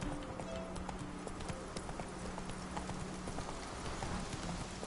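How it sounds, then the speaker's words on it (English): Hooves of a galloping horse in The Witcher 3 pound in a steady, rapid clip-clop rhythm, continuous and fairly quiet, with no talk over it. "Whoa there, Roach."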